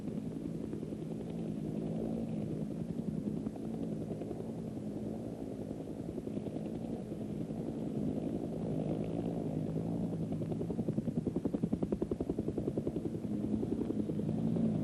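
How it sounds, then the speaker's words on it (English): A UH-1 helicopter's rotor with the blades in track runs as a steady, low, pulsing drone with a constant beat that holds throughout, moderately distant and with no voices. "The blades are now in track, and the aircraft is ready for a smooth flight."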